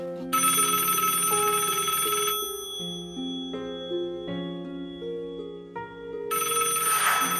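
A telephone rings with a loud electronic ringtone of shifting tonal notes that keeps going almost without a break, with no voices.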